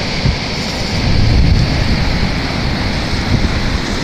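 Floodwater rushing over the South Island Dam, a loud continuous roar with low rumble and steady hiss, buffeted by some wind noise, no voices.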